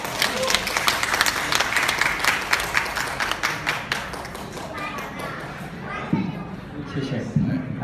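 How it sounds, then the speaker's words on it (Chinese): An audience at a traditional xiangsheng crosstalk show in an afternoon theatre session claps in a thick, rapid burst that thins out over several seconds as a voice begins talking over it. "感谢大家热情的掌声。"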